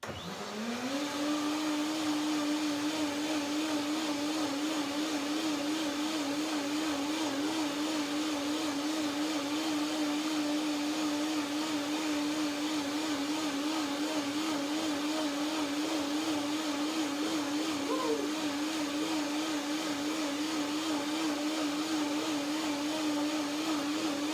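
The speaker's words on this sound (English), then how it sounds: "One more blending, and then I combine it." A blender whirs steadily, blending a cashew cream salad dressing, with a constant high motor whine that holds unbroken and fairly loud throughout, with no talking.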